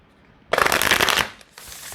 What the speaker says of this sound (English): These shuffle so nicely.